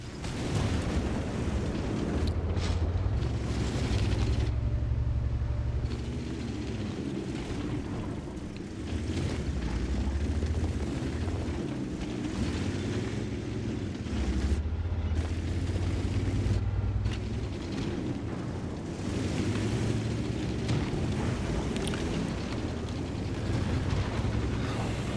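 Artillery fire in a video game, heavy rumbling blasts and booms rolling through a loud, dense low-end din that swells and eases across the stretch, with no voices.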